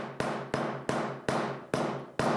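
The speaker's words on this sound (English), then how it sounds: "Give the tile a couple of smacks with the hammer first" Six sharp hammer blows striking ceramic floor tile to loosen it at a steady, slightly uneven pace, each a bright crack that rings briefly before the next.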